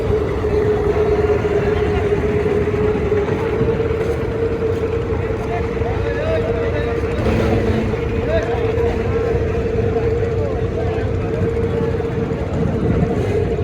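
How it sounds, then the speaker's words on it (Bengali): A passenger-laden trawler heads across the river near Barishal toward the Sundarban 16 launch, its engine a steady, droning hum that holds for the whole stretch under faint background voices. "একটি ট্রলার বেশ কিছু যাত্রী নিয়ে সুন্দরবন 16 লঞ্চের উদ্দেশ্যে যাচ্ছে"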